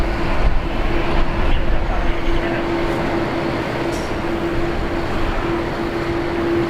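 Flight 533 arriving at Brisbane airport: a steady, loud jet roar with a sustained engine hum, and voices faintly in the background.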